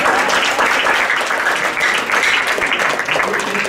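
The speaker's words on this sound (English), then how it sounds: "We can clap for that." A room full of listeners at a motivational talk breaks into loud, close applause, a thick, continuous patter of many hands clapping throughout.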